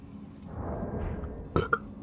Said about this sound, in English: Oh, cut that burp out, Ryder.